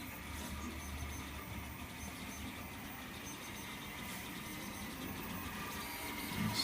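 Large 3D printer building an Eiffel Tower model, its steady mechanical whir and motor hum running continuously and fairly quietly at a constant level throughout.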